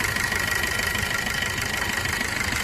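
A Maruti Suzuki Swift engine idles steadily right after a timing chain replacement, giving a smooth, continuous mid-pitched hum with a faint ticking texture, close and unbroken for the whole stretch with no talking.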